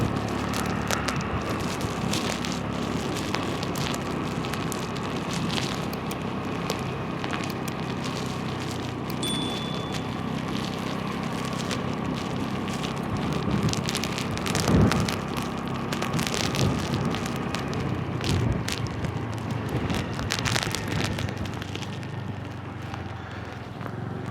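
Strong wind buffets a motorbike ridden through rain along a flooded road near Jaffna, a steady broadband roar lasting throughout with gusty swells and no speech.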